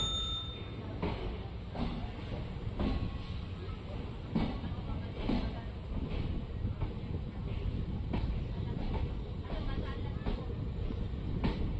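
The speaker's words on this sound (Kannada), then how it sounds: "ಕರೆಕ್ಟಾಗಿ 2 ನಿಮಿಷ ಸ್ಟಾಪ್ ಆದಮೇಲೆ ನಮ್ಮ ಟ್ರೈನು ತಳಕು ರೈಲ್ವೆ ಸ್ಟೇಷನಿಂದ ಹೊರಟಿದೆ ಟುವರ್ಡ್ಸ್ ಮೊಳಕಾಲ್ಮೂರು ಸೈಡು." Bengaluru–Hospet Intercity train pulling out of Talaku railway station toward Molakalmuru: a steady rumble of wheels and carriages with rhythmic clicks over rail joints, heard from onboard at a constant moderate level.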